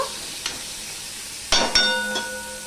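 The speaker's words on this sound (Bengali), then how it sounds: "বন্ধুরা রসুনটা লাল লাল হয়ে ভাজা হয়ে যাচ্ছে দেখতেই পাচ্ছ" Crushed garlic frying in oil in a kadai wok, a soft steady sizzle with a few sharp utensil clinks and stirring knocks, no voices.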